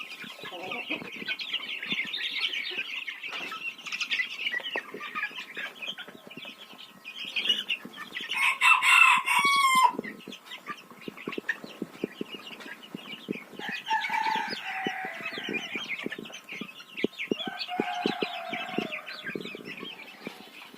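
Backyard chickens and quail clucking and chattering steadily nearby, with a brief loud squawking burst in the middle and continuous bird calls throughout.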